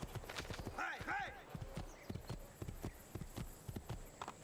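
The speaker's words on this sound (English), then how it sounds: "Hey, steal a horse." Horse hooves clop in a quick, steady gallop in Assassin's Creed 2, with a short whinny near the start and a voice speaking briefly.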